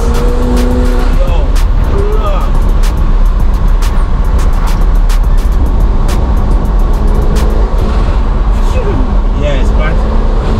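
A McLaren 720S sports car driving: a loud, continuous engine roar dominates close up, with a few brief tonal whines and tyre sounds mixed in.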